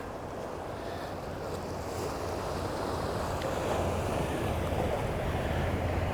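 Waves wash steadily into a cove on the Portsmouth, New Hampshire coastline, a continuous broadband surf roar with wind buffeting the microphone throughout, no voices.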